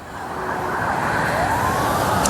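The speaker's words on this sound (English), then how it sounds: "I hear the first responders out there behind you with the sirens going on, Chris." Emergency vehicle sirens wail on a snowy city street, a rising and falling tone sweeping steadily over a constant wash of traffic and wind, with no one speaking.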